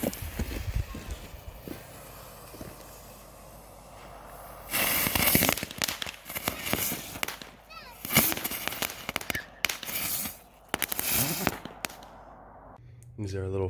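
Rapid bursts of small firecrackers, several lit together on one fuse, crackle and pop in irregular clusters, loud and near, with quieter stretches between volleys.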